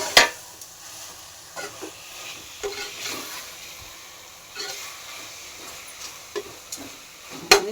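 Mint, coriander and tomato sautéing in a pan give a soft, steady sizzle, broken by a few sharp clinks and scrapes of a spoon against the metal at scattered moments.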